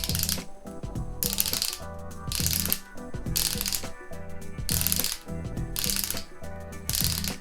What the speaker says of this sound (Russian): Давайте сделаем несколько оборотов и посмотрим, как будет вращаться механизм